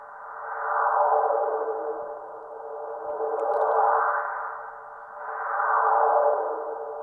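Resampled reverb in Ableton Live 8 run through a resonant 12 dB bandpass filter with a moving cutoff, giving a hollow, airy whoosh that swells and fades in three slow waves, eerie and alone.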